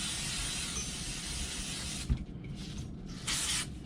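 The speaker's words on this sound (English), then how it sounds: "I'm just going to give it a spray." A long continuous hiss of spray from a bottle, close by, then a click and a couple of shorter spritzes.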